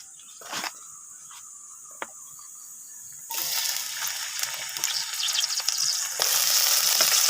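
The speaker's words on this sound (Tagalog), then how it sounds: "Bisahin muna natin sibuyas, bawang at luya" Onion, garlic and ginger hit a hot pan and start sizzling, with a few clinks first, then a steady loud hiss of frying that grows stronger near the end.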